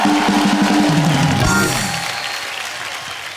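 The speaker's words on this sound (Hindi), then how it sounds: "जोरदार तालियां।" A studio audience at a comedy roast show bursts into loud, continuous clapping over tonal music. The applause stays strong at first, then gradually fades and thins toward the end.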